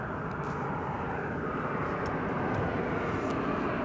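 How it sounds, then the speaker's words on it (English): An Embraer E-Jet airliner arriving at DFW Airport produces a steady, broad engine roar heard from outdoors at moderate distance, sustained and even throughout with no talking. "Oh, it looks like another E-Jet is arriving."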